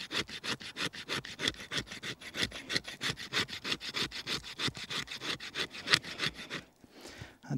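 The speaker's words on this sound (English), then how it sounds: "You can definitely scrape with the back of the knife. Now that's hard maple." Back of a knife blade scraping hard maple wood to raise fine fuzz: a long run of rapid, rhythmic rasping strokes, close and steady, stopping abruptly near the end.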